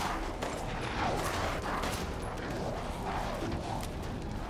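Gunfire in the video game Resident Evil Village, a rapid string of sharp shots and bursts under a busy, noisy game mix, moderately loud and continuous.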